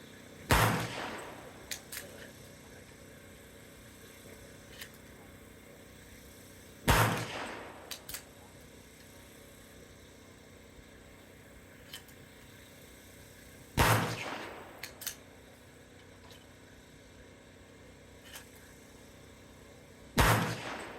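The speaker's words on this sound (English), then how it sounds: "let's take it to the range, put a few rounds through it" Four loud single shots from a Welrod-inspired .380 single-shot pistol at an outdoor range, each a sharp crack with a short tail, spaced roughly six to seven seconds apart with quiet between.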